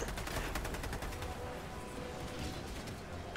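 A Helldivers turret firing fast, steady rapid bursts, a continuous rattle of gunfire heard at moderate distance against a busy battle background.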